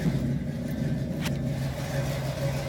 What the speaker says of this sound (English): Give it a little bit of gas and the truck will start right up.